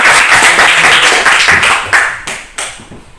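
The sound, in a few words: class clapping, thumb clap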